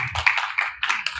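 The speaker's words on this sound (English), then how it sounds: "Give him a clap." Lecture audience at a vegan advocacy talk clapping in short uneven bursts, fairly close and moderately loud, with brief gaps between the flurries.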